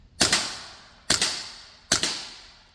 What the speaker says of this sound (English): let's take a couple shots with it over here on semi-automatic first.